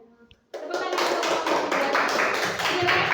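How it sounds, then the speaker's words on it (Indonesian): A classroom group applauds after a student group presentation, dense clapping starting abruptly and holding steady and loud for about three seconds, with faint voices before it. "Tepuk tangan"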